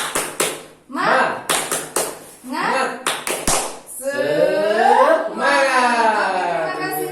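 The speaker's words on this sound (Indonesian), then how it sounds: "Tepuk semangat." A group in an Indonesian training session claps out a rhythmic spirit clap, several sharp bursts of hand claps in quick patterned runs, with spoken chanting and talk between and over the claps.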